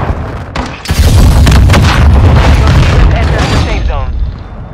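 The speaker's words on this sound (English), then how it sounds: "Throwing flash grenade!" A flash grenade detonates in a video game with a loud, close boom that swells into a sustained roaring rumble and slowly fades, with no speech over it.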